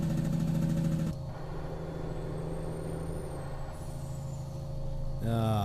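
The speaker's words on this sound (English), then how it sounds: "They've pretty much got the best engine sounds. And that engine brake is just beautiful." Engine brake of a Kenworth T908 B-double truck in American Truck Simulator, a steady loud low diesel drone with a sharp rise in pitch at the start and end.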